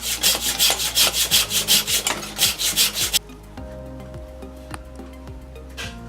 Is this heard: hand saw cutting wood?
yes